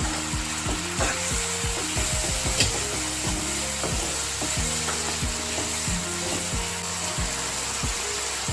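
Green peas go into a pan of sizzling spices for a Bengali fish kalia, a steady loud frying hiss with repeated scraping, knocking stirring strokes of a spatula against the pan.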